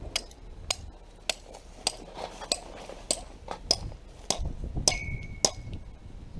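A small hammer drives a metal wedge into stone: repeated light metallic taps at an irregular pace, each a bright clink, with one louder ringing strike near the end.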